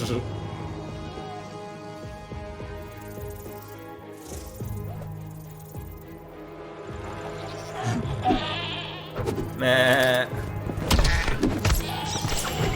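Goats bleat several times in a Minecraft animation amid rattling, thuds and clattering game sounds, with people talking over it.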